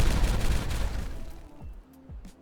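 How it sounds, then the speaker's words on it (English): Dynamite blasts going off in the city-building game Timberborn, a dense rumbling roar of explosions that fades into a few separate booming thuds, loud throughout. "We're gonna detonate this line."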